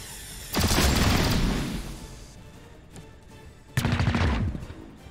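Gunfire in the tactical video game XCOM: Chimera Squad, two loud bursts of rapid shots about three seconds apart, each ringing out and fading, with no talking.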